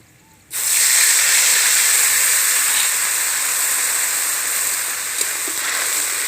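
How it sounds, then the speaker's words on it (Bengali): Water hits a hot pan of roasted white sesame seeds with a sudden loud burst of hissing steam, then holds a strong, steady sizzle close by with no talking. "এবার ওর মধ্যে দিয়ে দিচ্ছি 1 বাটি জল।"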